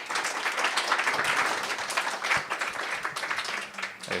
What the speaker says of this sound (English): Can we get a round of applause for the panelists?